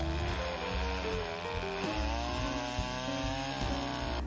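A chainsaw cuts through a firewood log from the top, its engine snarling continuously and loudly up close with a shifting pitch as it works through the wood.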